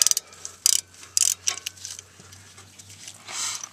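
Ratcheting clicks from a wrench loosening 14 mm brake caliper pin bolts on a 2007 Nissan Frontier, close and sharp, coming in short bursts and then easing into a steadier metallic whir.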